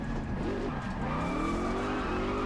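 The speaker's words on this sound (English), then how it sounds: "I should not have hit a drift there." A car drifts with a sustained tire skid in the racing video game Test Drive Unlimited, loud engine drone and rising squeal holding steady throughout, close and continuous with no talk.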